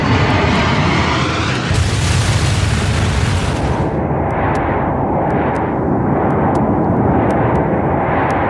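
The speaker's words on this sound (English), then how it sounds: "The Bergen Air pilot flips the plane upside down before crashing into the sea." A Bergen Air plane flips upside down at night and crashes into the sea: a loud, continuous roar swells into a burst of impact, then a rumbling wash of noise follows.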